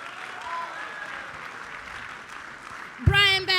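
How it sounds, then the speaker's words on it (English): Audience applause at a student athlete talent show, a steady broadband wash of clapping with cheering voices over it, ending in a sudden loud burst of sound at the close. "Give us a round of applause for Brian Baptiste"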